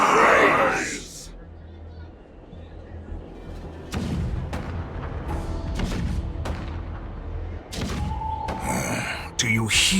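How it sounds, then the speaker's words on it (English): Deep booming thuds of cannon fire in the Honkai Star Rail video game, several heavy blasts spaced over a rumbling battle background, mixed with game effects and a character speaking over them. "The rumble of the cannons."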